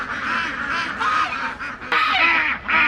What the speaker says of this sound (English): our ducks are doing fine. They're just having a quack old time, just quacking all over the place.